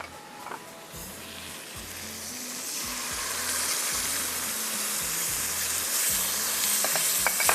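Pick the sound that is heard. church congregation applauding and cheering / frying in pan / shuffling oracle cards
frying in pan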